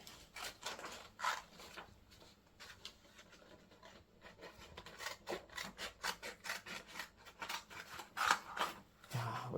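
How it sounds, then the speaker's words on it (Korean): A child snipping paper with scissors indoors, giving repeated short crisp cuts and rustling, irregular in rhythm and close by, with no talk over it. "가위질을 싹둑싹둑 잘하네."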